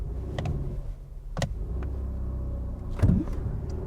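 A 2023 Volvo XC60 Recharge plug-in hybrid SUV in power mode launches from a brake-torque start, giving a steady low drone with a few sharp clicks and a brief swell near the end, with no speech.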